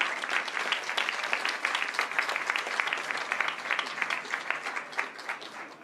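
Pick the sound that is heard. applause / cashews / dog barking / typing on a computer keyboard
applause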